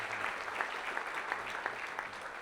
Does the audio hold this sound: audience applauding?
yes